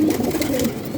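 A fancy pigeon coos close by, a short soft throaty warble with low rolling notes, heard alone without any voices.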